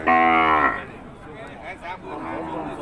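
Cattle at the Som Poi Noi cattle market in Thailand give one loud, drawn-out moo up close, followed by quieter crowd noise and a few fainter calls in the background.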